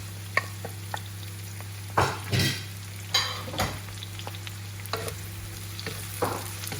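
Tomato fries in a pan while pork adobo is being prepared, giving a quiet sizzle. A few louder scrapes and stirring bursts break in over a steady low hum, with no one speaking.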